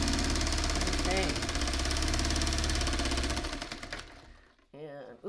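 A sewing machine stitching a quilt block runs loud and continuous with a steady mechanical chatter for about four seconds, then stops; a brief voice follows near the end.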